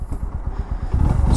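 A 2024 Bajaj Pulsar NS 125 motorcycle engine runs just after being put into first gear, with a low, throbbing, pulsing idle and a slight rise toward the end, close and steady, with no talking.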